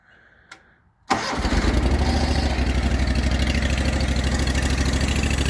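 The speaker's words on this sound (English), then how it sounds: "Let me turn the tractor on and show you what it does." Steiner 430 compact tractor engine cranks and fires after a faint click, then settles into a steady, loud, close idle with a continuous low rumble that holds to the end.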